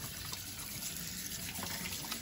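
Cold tap water runs over cooked pasta in a big colander, a soft, steady splashing stream heard close and fairly quiet, with no talking.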